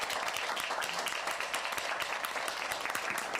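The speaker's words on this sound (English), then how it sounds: "Would you join me in applauding as Mrs. Gomer comes to the podium?" Dense applause from an audience at a school board meeting, a continuous wash of many hands clapping at once, heard close and loud for a few seconds without speech.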